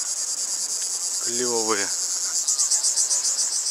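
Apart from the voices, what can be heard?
cicadas chirping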